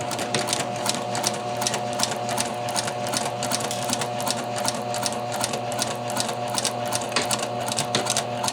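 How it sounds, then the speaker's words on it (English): A sewing machine stitches across a skirt vent with back tacks, running as a steady, fast rhythmic whir and needle chatter close by and continuously, with no talk. "I'll go back to my machine, and again, starting from my folded edge, I'm going to back tack here."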